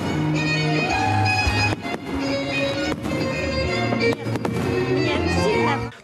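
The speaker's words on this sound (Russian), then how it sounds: "Новогодний марафон салютов по всей стране, один другого красочнее." New Year fireworks over a Russian city, with dense crackling bursts and booms layered over one another, while a voice talks over the display.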